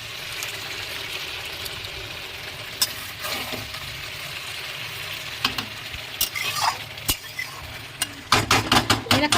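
Chicken curry meat sizzles and fries in a pan while being stirred, a steady close hiss broken by scraping stir strokes that grow busier and louder toward the end.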